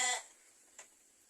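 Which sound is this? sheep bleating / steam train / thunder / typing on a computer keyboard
sheep bleating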